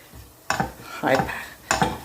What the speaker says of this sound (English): add the coconut, desiccated coconut, dry into the pan